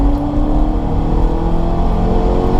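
A BMW E30 Touring with a badly damaged, powerless engine under hard acceleration gives a loud, steady droning engine note that holds at an even level throughout, with no voices.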